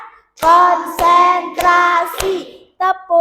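Schoolchildren in a fourth-grade class clap together in a counted routine, giving four sharp, loud claps spaced about half a second apart, then a short pause and a few more quick hand claps at the end.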